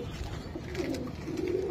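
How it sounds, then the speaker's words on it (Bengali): A Pakistani Rampuri pigeon coos in low, soft, steady tones, close by and unaccompanied, for a couple of seconds. "এটা রামপুরি একটা কবুতর, এটা পাকিস্তানি তাই না ভাই"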